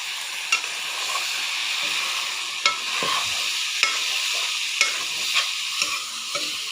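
Tomatoes stirred into a pan of cooked potatoes, a soft sizzle under repeated sharp scrapes and taps of a spoon against the pot, close and fairly steady.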